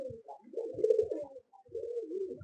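A flying-breed carrier pigeon coos up close in two bursts of low, throaty rolling calls separated by a short pause, with no other sound around it.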